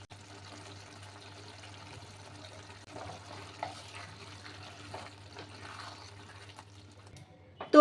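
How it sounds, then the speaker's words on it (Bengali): Phulkopir dom, a cauliflower curry with water and sugar added, simmering in a pot: a faint, steady bubbling over a low hum, with no talk. "এবার কিছুক্ষণ ফুটতে দেব।"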